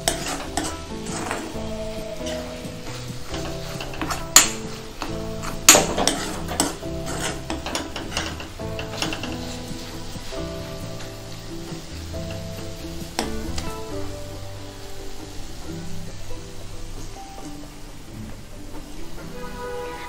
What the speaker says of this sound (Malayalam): അപ്പോൾ അതിന് വേണ്ടിയിട്ടാണ് ഇപ്പോൾ ഇത് നന്നായിട്ട് ഇളക്കി കൊടുത്ത് ഒരു 5 മിനിറ്റ് നമുക്കിതൊന്ന്